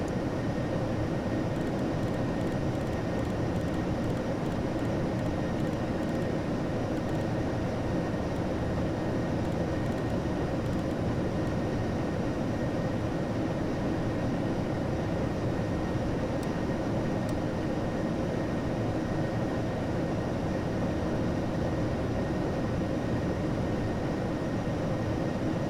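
Steady, loud broadband roar of an airliner's engines inside the cabin as it climbs after takeoff past transition altitude, about 5,000 feet, droning continuously with no talk.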